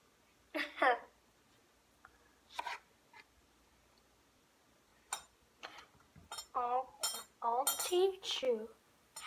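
A knife cuts food on a plate in several short clinking, scraping bursts that sound close and fairly quiet, with voices talking between and over the cuts.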